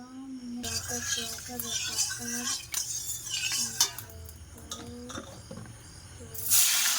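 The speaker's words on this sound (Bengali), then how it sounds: "কড়াটা গরম হয়ে গেছে এবার তেল দিয়ে দেবো আলু ভাজবো" Potatoes fry in hot oil in a heated wok, with a soft steady sizzle and the clink and scrape of a metal spatula stirring, while a voice talks over the cooking.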